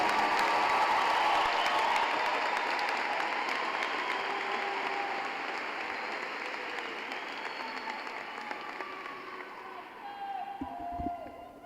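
Applause from a crowd at a high school graduation ceremony for Terre Haute South Vigo High School fills the hall, loud at first and then tapering gradually, with a few cheers and a voice near the end.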